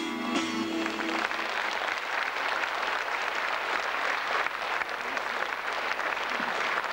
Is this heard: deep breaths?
no